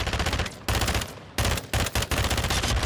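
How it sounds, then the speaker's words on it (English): Automatic gunfire in Call of Duty: Warzone at Vondel Park from an FR Avancer rifle, loud close bursts of rapid shots broken by short pauses, with no talking over them. "I'm just shooting you a little bit."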